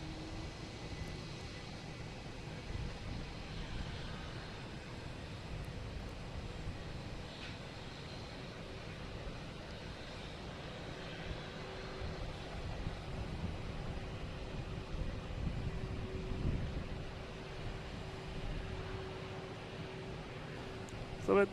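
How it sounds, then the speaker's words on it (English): An American Airlines E175 jet landing at Boston Logan airport gives a faint, steady engine rumble and whine for the whole stretch, distant and low under general outdoor background noise. "We have American Airlines E175 coming in from JFK."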